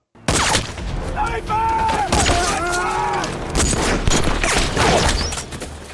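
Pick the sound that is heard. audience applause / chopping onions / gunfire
gunfire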